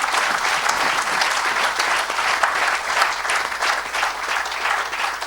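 A church congregation claps for Jesus in sustained, dense applause, steady and loud throughout with no pause.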